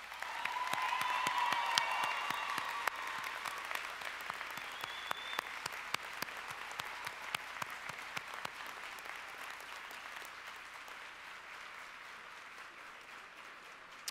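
At a 2019 autumn commencement ceremony for Central Ohio Technical College, a large hall full of people claps for the graduates. The applause comes with scattered sharp individual claps and some cheers, then slowly thins and fades toward the end.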